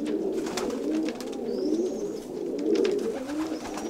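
Pigeons coo softly and repeatedly in low, rolling phrases, close by and with no talk, amid the birds kept by pigeon fanciers in Kozani.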